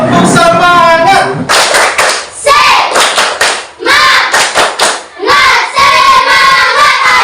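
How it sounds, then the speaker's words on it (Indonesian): A schoolroom of children perform a patterned spirit clap, bursts of sharp hand claps in rhythmic groups broken by short pauses, loud and close, with voices chanting along between the clapping. "Tepuk semangat."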